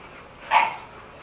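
A single bark from a dog, pit bull or Doberman, rises briefly and fades against a quiet background.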